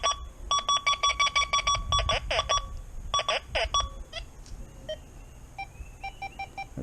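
XP Deus II metal detector beeping repeatedly over a buried nail, with rapid bursts of high electronic tones in clusters and scraping noise underneath, then sparser chirps as the coil moves.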